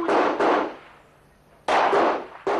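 A few loud, sharp bangs like gunshots, two close together, then a pause before two more.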